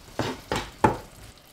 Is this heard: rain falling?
no